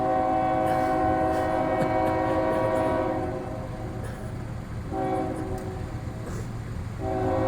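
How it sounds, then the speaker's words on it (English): A train rumbles steadily past after dark, its horn sounding in long sustained blasts that break off and return, over a continuous low roar of rolling cars. "The night train at 6 o'clock p.m."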